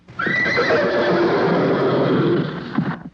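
A horse whinnies loudly and close for about three seconds, one long sustained neigh on its own with a faint clip-clop of hooves near the end.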